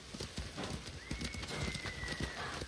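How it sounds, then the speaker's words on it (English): A horse in the video game Ghost of Tsushima runs with quick, steady hoofbeats and a brief whinny, fairly faint against a busy game background. "I love how loyal my horse is when I just got him from a stable."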